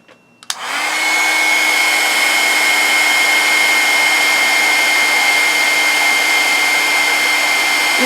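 A heat gun runs continuously while melting embossing powder on a craft project, switching on with a click and then holding a steady, loud blowing whoosh with a faint whine, close by and with no talk.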